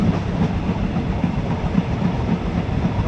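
Inside ordinary train 259 running from Taling Chan Junction toward Salaya, a loud, steady rumble of wheels and carriage fills the cabin, with a faint repeating clickety-clack over the rails and no voices.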